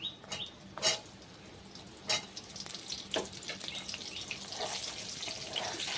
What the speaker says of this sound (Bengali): আমি যে কেটে রাখা পটলগুলো ওই গরম তেলে দিয়ে দিচ্ছি ভাজার জন্য